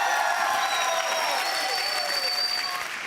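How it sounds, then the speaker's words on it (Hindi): Studio audience applause on a Hindi television singing show for children, a full, bright burst of clapping from a crowd that continues steadily for about three seconds, with faint musical tones running underneath. "तालियां।"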